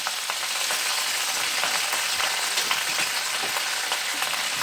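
Spinach hitting a hot frying pan gives a steady, bright crackling sizzle that holds evenly and close for the whole stretch, with no voices.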